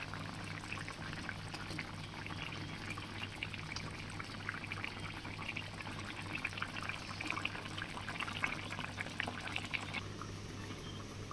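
Andhra fish curry (chepala iguru) bubbling in a pot, a continuous close burbling simmer with soft liquid pops throughout, steady and moderately quiet.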